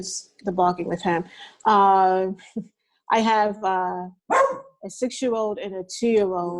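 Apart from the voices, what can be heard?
dog barking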